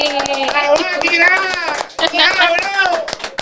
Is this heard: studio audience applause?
yes